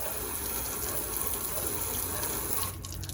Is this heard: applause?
no